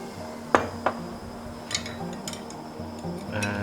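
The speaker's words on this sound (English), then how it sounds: "stir it until the sugar and the water is mixed together" A spoon stirs sugar into boiling water in a pot, giving a few light metallic clinks and taps over a steady low bubbling hum, quiet and close.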